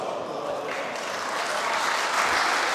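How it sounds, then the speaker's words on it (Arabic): Applause fills a mosque, a dense, fairly soft patter of many hands clapping that swells slightly toward the end. "إخواني بدون تصفيق، إحنا في الإسلام عندنا تكبير وليس عندنا تصفيق"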